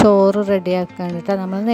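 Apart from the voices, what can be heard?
None of the usual background noises is heard.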